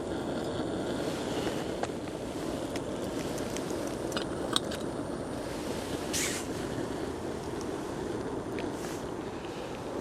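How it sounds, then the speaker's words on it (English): A steady, roaring hiss of a butane camping stove burning at full flame continues without a break, outdoors in winter woods, with faint clicks and rustles on top. "This stove should boil a cup of water in no time at all"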